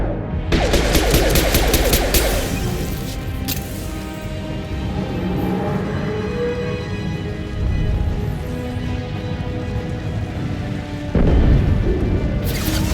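A grenade blast and gunfire in Mass Effect combat: a loud burst of rapid automatic fire opens, then a long rumbling explosion tail rolls on, and a second heavy boom lands near the end.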